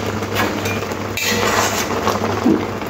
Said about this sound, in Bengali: 10 মিনিট পরে ঢাকাটা খুলে নেব।